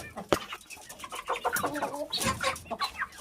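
A rooster clucks and squawks in short, irregular bursts close by, with a few sharper cries among the chatter.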